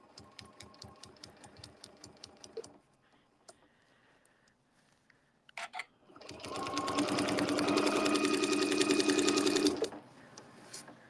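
A sewing machine stitches with the needle down. A quick run of rhythmic ticking stitches comes first, then a pause with faint handling noise, then a louder, steady whirring burst of fast stitching that stops abruptly.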